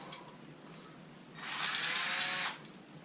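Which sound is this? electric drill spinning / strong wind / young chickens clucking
electric drill spinning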